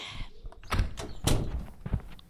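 A front door in a radio drama opens and closes for a visitor, giving a few dull wooden thunks and latch knocks spread over about two seconds, close and moderately loud.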